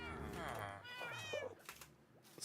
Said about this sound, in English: So many doggos and cats.